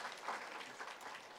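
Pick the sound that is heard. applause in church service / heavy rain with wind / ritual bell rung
applause in church service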